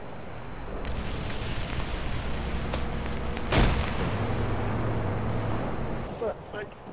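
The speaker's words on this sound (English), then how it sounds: "There's heroic fireworks in the sky for you lads." Video-game fireworks burst overhead in a series of sharp cracks and booms, with one loud, heavy blast midway and smaller pops around it over a continuous noisy background with voices.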